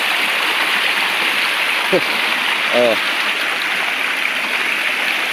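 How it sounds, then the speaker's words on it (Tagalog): A mountain river on Mount Apo rushing nearby in a loud, steady broadband roar, with a brief voice exclamation and a short whistle-like call heard over the flow. "Ito ang ilog dito"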